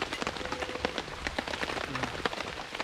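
Heavy rain drums on a French Army F2 tent during a wild camping trip, a close, dense patter of sharp individual drop hits on the fabric with no talking.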